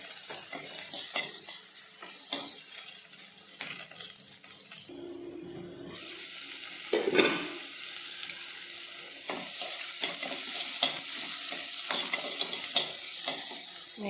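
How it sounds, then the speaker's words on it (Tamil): Onions with curry leaves sauté in a pan, a steady close sizzle with spoon scrapes and stirring clatter throughout, a brief pause midway before the frying resumes. "வெங்காயம் வதங்கிடுச்சு."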